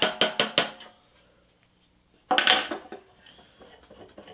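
Sharp metallic taps of a socket knocking a wheel cap onto a 1960 Tonka service truck wheel, four quick raps in a row, then a pause and a louder clattering strike, close and without talk.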